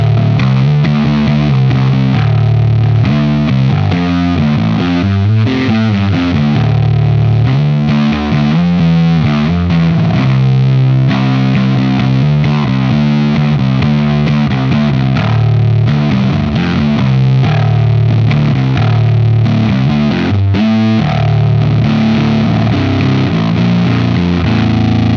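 A jazz bass played through a Bardic Audio HM Demon distortion pedal, giving a thick, fuzzy, saturated bass line that runs loud and continuous with steady rhythmic notes and no talking.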